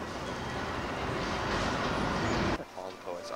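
Rumbling train noise on a New York City platform or car builds steadily as the train is boarded, then cuts off sharply near the end, leaving quieter background with people talking faintly.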